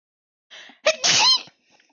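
A single close, loud sneeze: a short breathy intake, then a sharp explosive burst that trails off, with nothing but quiet on either side.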